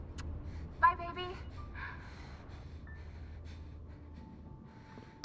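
A woman gasps and breathes hard in Resident Evil 7, one sharp gasp near the start followed by ragged, quieter breaths against a low ambient hum, fairly faint overall.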